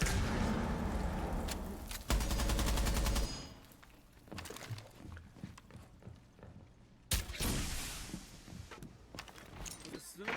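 DMR rifle shots ring out during a competitive video game match: a dense, loud volley early on, then scattered sharp cracks with quieter gaps and another burst near the end, mixed with other game noise.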